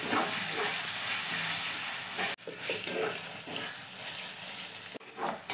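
Spices including Kashmiri chili powder sizzling and frying as they are sautéed for Bihari chicken, a steady close hiss with brief stirring breaks.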